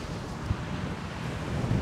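Strong gusty wind buffeting the microphone on an outdoor disc golf course, a continuous loud rumbling roar with no other clear sounds.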